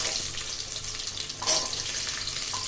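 Shallots, big onions and chillies sautéing in a pot for a one-pot sambar, a steady broadband hiss like running water with a brief louder sizzle burst midway.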